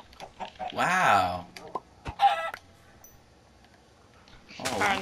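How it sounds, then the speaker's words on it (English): Chickens cluck in Minecraft in a few short bursts separated by quieter gaps, fairly close and clear, with a voice talking in between. "I'm gonna start making a little bit of chickens here. Yeah, there's a ton."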